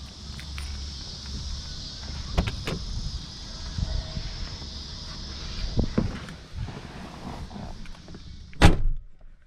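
Someone climbs into a 1997 Lincoln Town Car Cartier, with several sharp door thumps and clicks, a brief whir like an electric window motor, and one loud slam near the end over a low idling hum.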